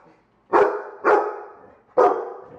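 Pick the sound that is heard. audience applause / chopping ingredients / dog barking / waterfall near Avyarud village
dog barking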